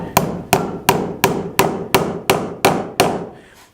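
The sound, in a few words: hammer driving cut nails through boards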